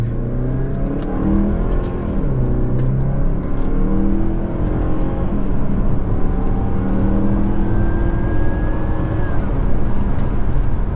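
A 2016 Mazda CX-9 family SUV driven in sport mode, held in first gear manually, gives a steady, loud engine drone with road and cabin noise throughout, the revs rising toward the end.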